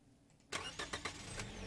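A car engine starts in the video game Overland: a sharp cranking onset followed by a few rhythmic chugging pulses that settle into a steady, fairly loud running hum, with no voices.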